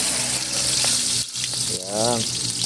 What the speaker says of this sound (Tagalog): Mas bawang, siyempre bawang muna ang ating unang isasalang.